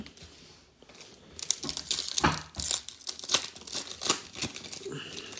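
Crinkly plastic wrap is peeled and crumpled off card top loaders in uneven rustling bursts, close and fairly quiet, starting soft and growing busier before tapering off, with no talking.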